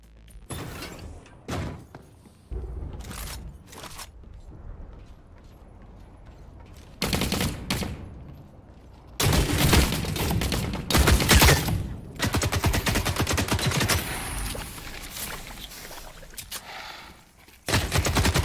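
Bursts of gunfire in the video game The Cycle: Frontier, with scattered single shots early on, then dense, loud automatic volleys and mechanical clatter that continue in waves until the end.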